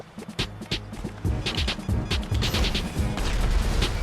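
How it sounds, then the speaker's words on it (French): Repeated sharp bursts and crashes of explosions in a PS4 video game, loud and overlapping, with rumbling low-end booms building through the clip. "j'ai entendu une de ces explosions et il est par terre"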